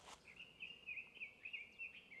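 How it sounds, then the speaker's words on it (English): A faint, thin bird call trills steadily in the distance against a quiet, still background of French countryside, with a brief rustle at the start. "Just hear some birds here and there"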